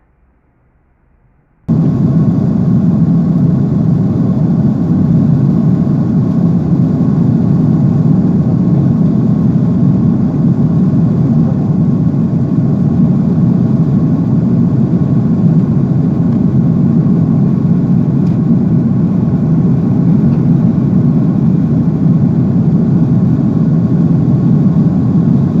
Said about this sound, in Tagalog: Yan po ang lipad ng aming sinasakyang eroplano.